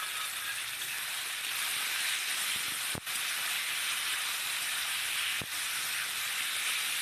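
Boal fish masala sizzles steadily in a pan after water is added, a loud continuous hiss broken by a couple of faint clicks.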